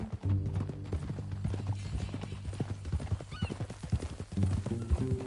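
Rhythmic horse hooves in the video game Red Dead Redemption 2 clip-clop steadily at a moderate pace, close by, with a faint whinny mixed in.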